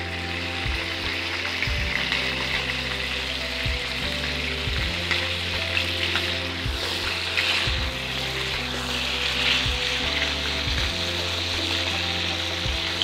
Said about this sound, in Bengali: চারিদিকটা ঘুরিয়ে ঘুরিয়ে একটু ভেজে নেবে ফার্স্টে